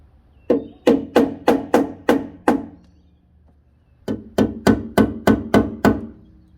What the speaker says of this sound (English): I'm just going to use a nail and a hammer and just tap each one to mark it